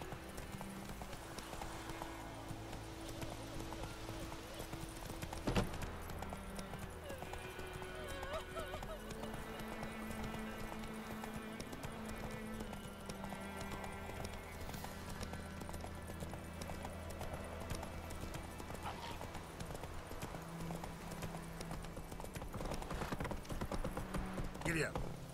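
Hooves clip-clop steadily from a horse in The Witcher 3, fairly faint beneath game music and ambience, with a neigh and some talk mixed in.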